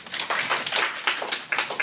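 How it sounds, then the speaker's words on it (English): Classroom of students applauding together, a dense steady patter of many hands clapping at close range, continuous for a couple of seconds with no voices. "Give Napoleon a round of applause."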